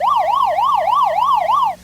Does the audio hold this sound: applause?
no